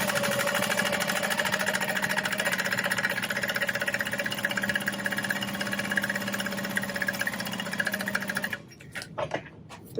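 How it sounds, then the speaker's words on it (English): A sewing machine runs continuously as it stitches vinyl for a circle bag, a close, even motor hum with rapid needle rhythm that stops near the end, leaving a few soft handling knocks. "And then I'm going to sew this other one"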